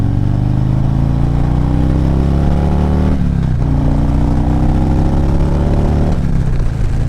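A Harley-Davidson Street Glide motorcycle engine running loud and close, a deep throbbing drone that climbs steadily in two long revs, each dropping back sharply before rising again, with no voices.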